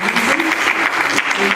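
An audience at an academic psychology symposium applauds, a dense and fairly loud clatter of clapping that lasts the whole short moment, with a voice faintly audible underneath.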